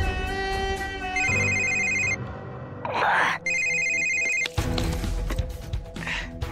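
A telephone rings in two loud electronic bursts close by, with people talking in between and after the rings.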